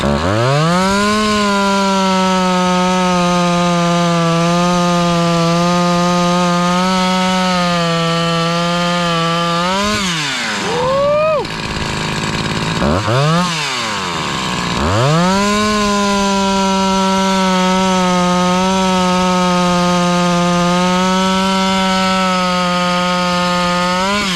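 A Husqvarna 346 XP chainsaw runs after a piston and cylinder top end rebuild, a loud close buzzing engine held at high revs, dropping briefly with a couple of rev changes midway before revving back up.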